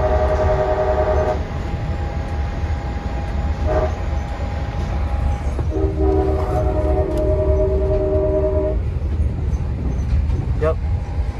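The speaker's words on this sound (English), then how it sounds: "let me hear the horn from 6901" An Amtrak Pacific Surfliner passenger train, locomotive 6901, rumbles past while its multi-tone chord horn blasts twice, a short blast and then a longer one, loud and close.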